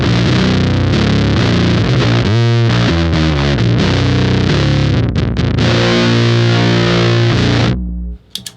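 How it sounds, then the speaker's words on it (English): An electric guitar on its neck pickup runs through a Big Muff fuzz pedal, giving thick, saturated chords and busy riffing at a loud, steady level before a sudden stop and a short ring-out. "So here's what the guitar sounds like with just the big muff on and the neck pickup."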